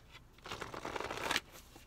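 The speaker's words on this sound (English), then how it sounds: "I have a Twin Flame Universe deck that I'm shuffling now" A Twin Flame Universe tarot deck being shuffled, a brief soft riffling flutter of cards that rises and then stops, close and quiet with no talk.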